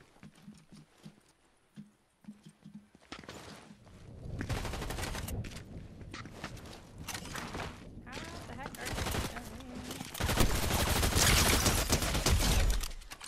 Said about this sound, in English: Is TG gonna get headshot sniped?